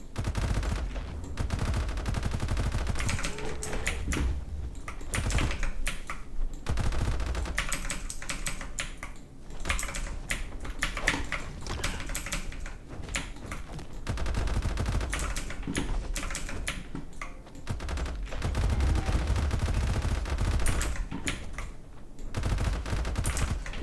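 Rapid gunfire from a gun in the in-development game Crete, continuous bursts of shots running almost without pause at a steady loud level.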